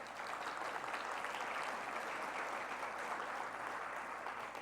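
Steady, dense applause from a conference audience honoring keynote speakers at a sustainability forum, sustained without pause at a fairly soft, distant level throughout.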